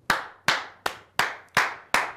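Six slow, evenly spaced claps ring out one at a time, each sharp and close with a short decay, from a small studio audience applauding a cooking show's technical director.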